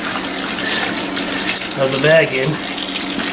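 A gallon jug of water is poured onto a brew-in-a-bag grain bag during all-grain home brewing, giving a steady splashing gush while someone talks over it.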